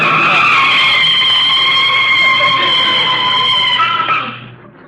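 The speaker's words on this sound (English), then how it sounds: "You can start putting on the brakes." Car brakes skid in a 1940s radio comedy sound effect: a loud, sustained tire squeal holding steady for about four seconds before trailing off sharply, heard alone with no talk.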